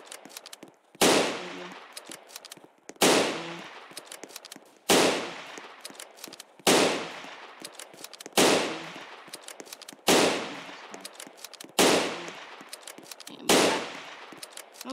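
The big gun in the Roblox game fires heavy, booming single shots about every two seconds in a steady rhythm. Each blast is loud and close with a decaying tail, and there is no speech.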